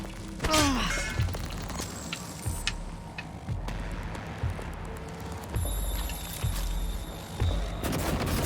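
Automated turret gunfire in the 2017 video game Prey: scattered bursts and booms over a dense, rumbling mechanical background, with a few clicks and metallic hits throughout.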